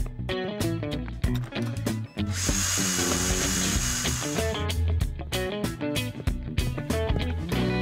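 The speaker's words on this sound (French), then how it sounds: "Oui, je crois que je sais comment bien percer un trou dans un mur maintenant, Bob." A power drill bores a hole in a wall in a French-dubbed Bob the Builder cartoon episode, a steady buzzing drill whine lasting a few seconds in the middle, set against busy, plucky background music.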